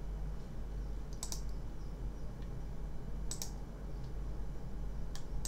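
A computer mouse clicks during work on a game's item settings: a few sharp, quiet clicks spaced several seconds apart over a steady low background hum, with no talking.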